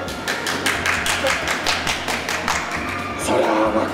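An audience at a food court eating contest in an AEON mall, a team battle over a giant 3 kg parfait, gives a short burst of applause, with quick claps repeating across a few seconds, lively and close, while a host keeps talking.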